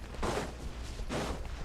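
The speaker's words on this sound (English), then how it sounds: "So she does use a musket." Two musket gunshots from Genshin Impact ring out about a second apart, each a fairly loud burst with a short noisy tail, with no talking.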